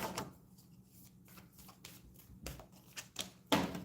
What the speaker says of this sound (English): I saw this card and I still kept shuffling, right?